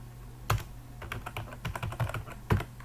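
Typing C++ code on a computer keyboard: quick, irregular key clicks with a few heavier, louder strokes, likely the enter key or space bar, close and otherwise quiet.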